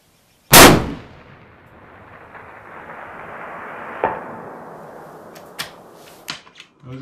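A Cadex .338 Lapua rifle fires one loud, sharp shot at a shooting range, with a long rolling echo and a faint distant bullet impact a few seconds later, followed by small clicks.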